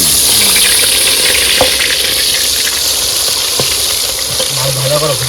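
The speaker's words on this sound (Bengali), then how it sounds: "তাহলে এবার মাছ ভাজা" Loud, constant crackling sizzle of fish frying in hot oil on a boat on the Matla River, with a few faint clinks and a brief murmur of a voice.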